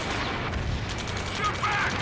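Gunfire in the Ace Combat 7 video game during a mission against enemy UAVs near a space elevator, a dense continuous rattle of shots under game noise with radio chatter voices.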